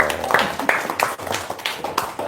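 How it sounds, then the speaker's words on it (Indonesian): An audience claps together at a stage talk show, a quick uneven patter of hand claps at close range that runs steadily for a couple of seconds. "Tepuk tangan dong."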